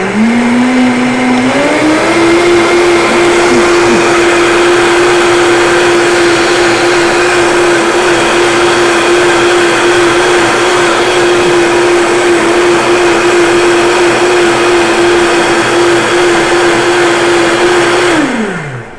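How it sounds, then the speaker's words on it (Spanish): A kitchen blender mixing a drink whirs loudly and steadily for about eighteen seconds, stepping up in speed near the start and winding down abruptly at the end, with no talking. "Voy a hacer un poquito de ruido con mi licuadora."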